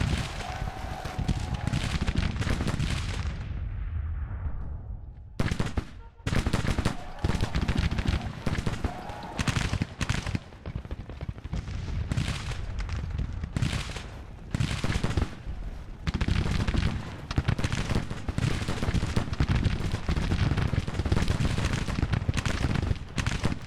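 Musket volleys crackle across a Grand Tactician battlefield, repeated bursts of layered rifle fire with booming cannon-like thuds, loud and dense, interrupted by brief gaps, while someone talks over parts of it.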